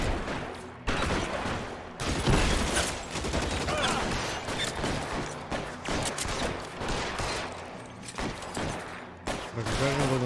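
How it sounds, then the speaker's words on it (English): Gunfire rattles through a shootout in L.A. Noire, with dense bursts of shots and automatic fire repeating across the whole stretch, loud and close. "Какая же была стрельба?"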